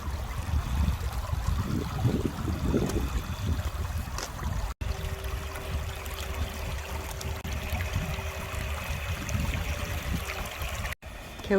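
Steady stream water flowing and trickling outdoors at a camping spot, a continuous broadband rush with low rumble, fairly close, with faint voices occasionally underneath.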